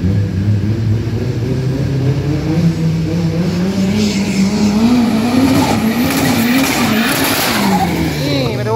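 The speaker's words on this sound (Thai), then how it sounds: "นี่มาดูครับเจ้าสตาร์เลทครับเจ้าตัวเล็กครับจากโตโยต้า" A Toyota Starlet drag car at Bangkok Drag Avenue on a 402 m run roars with a steady, rising engine drone, revving hard near the end, with a commentator talking over it.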